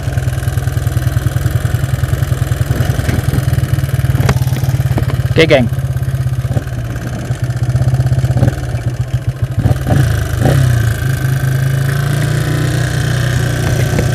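A motorcycle fitted with a PWK 62mm carburetor idles steadily and loudly close by, with a constant low rumble and occasional light blips, while someone talks over it.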